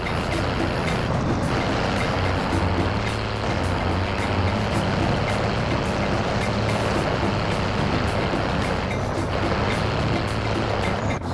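A heavy vehicle rumbles steadily and loudly throughout a Call of Duty Warzone match, its engine drone constant with faint beeping tones on top and no talking.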